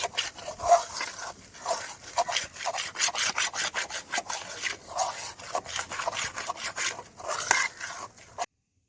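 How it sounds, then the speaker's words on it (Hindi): A spoon stirs thick walnut halwa in a pot, scraping the bottom with quick, continuous rubbing strokes that sound close and steady. The sound cuts off abruptly near the end, and no one speaks. "अब थोड़ी देर तक हम चम्मच चलाते रहेंगे ताकि नीचे ना लग जाए"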